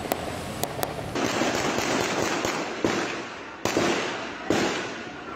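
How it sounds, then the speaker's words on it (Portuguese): Sharp broadband bangs and cracks punctuate a continuous rushing noise, with several loud reports spaced irregularly over a few seconds: military police exchanging gunfire with criminals from a railway footbridge in Rio de Janeiro. "De cima da passarela que cruza a linha férrea, policiais militares trocam tiros com criminosos."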